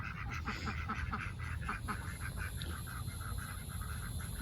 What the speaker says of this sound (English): That poor duck.